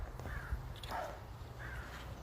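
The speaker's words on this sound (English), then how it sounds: "Alright, Mama Crow." A crow caws a few times at a moderate distance, in short harsh calls spaced about a second apart over a quiet outdoor background.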